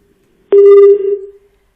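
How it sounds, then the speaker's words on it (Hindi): A single loud telephone line tone sounds alone for about a second as a call to a reporter is placed, steady and clear, then fades quickly. "तो सुनील से फोन फिर मिलाने की हम कोशिश करेंगे।"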